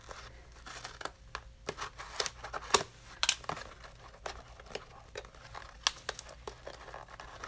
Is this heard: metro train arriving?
no